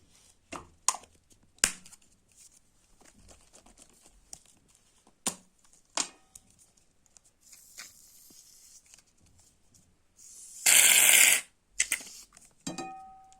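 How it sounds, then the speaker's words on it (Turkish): Shaving foam sprayed from a can onto slime in a short loud hissing burst, set among quieter sticky crinkling and tapping handling noises, with no talking. "Tıraş köpüğümü aldım. Az, az, az koyacağım."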